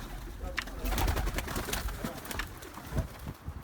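Tumbler pigeons coo in a coop, soft low calls repeating close by amid rustling and other bird noises, with a voice talking briefly.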